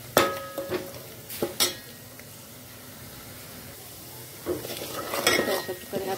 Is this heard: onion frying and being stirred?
yes